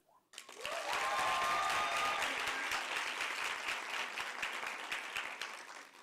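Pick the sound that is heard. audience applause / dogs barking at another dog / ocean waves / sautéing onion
audience applause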